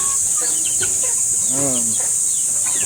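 A large GRS Gray chicken gives a few short clucks, fairly close, over a constant high hiss, with someone talking at moments.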